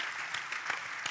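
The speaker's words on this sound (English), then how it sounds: "round of applause," A brief, fairly faint round of applause rises from the audience at a public talk and debate event, a soft, even patter of many hands with no voices over it.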